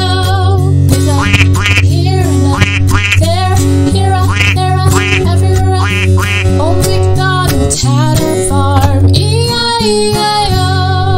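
Duck quacks in a farm nursery-rhyme song, repeated quacking set over a bright musical accompaniment of piano and melody, loud and continuous.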